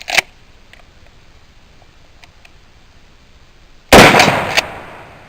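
A 12 gauge shotgun fires a 2 3/4 inch shell of one ounce of 8 shot, heard as a sharp bang at the start, a quiet stretch with faint small clicks, then a second loud blast that rings and trails off.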